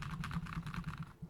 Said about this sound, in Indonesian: gue akan ngetes background noise-nya dengan menggunakan sebuah keyboard dengan switch tactile